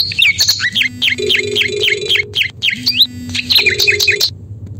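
Mobile phone ringtone playing a bright chirpy, bird-like electronic melody, repeated tonal phrases with short gaps, loud and close, with no talking.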